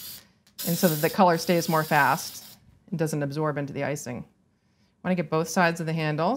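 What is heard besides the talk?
spraying color onto cookie pieces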